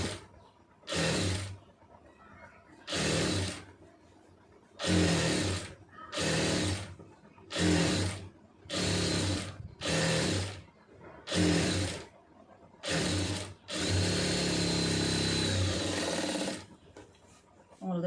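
A sewing machine stitches pencil skirt seams in repeated short runs separated by pauses, ending in a longer continuous burst, close and loud with no voices.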